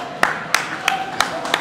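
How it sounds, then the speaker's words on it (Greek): Sparse hand claps ring out at an award ceremony, about five sharp claps at a steady rhythm over a faint background hum, close and distinct rather than a full crowd applause. "Ένα χειροκρότημα και το βραβείο"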